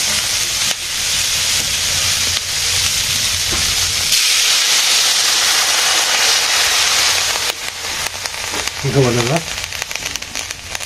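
Water poured into a hot pan in a village kitchen, a loud sustained hiss of steam for several seconds that breaks off abruptly, followed by quieter background noise and a brief voice.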